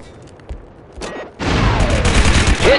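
Blaster gunfire in the video game Star Wars: Republic Commando, a few faint shots followed by a loud sustained burst of rapid fire and impacts, with no talking.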